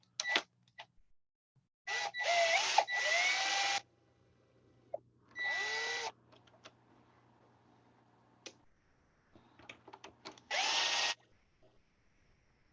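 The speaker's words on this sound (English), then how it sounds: "Usually I don't use a drill, but there's so many friggin' screws to take off" A power drill whirs in several short bursts, each spinning up and winding down, separated by pauses and small clicks of screws coming loose.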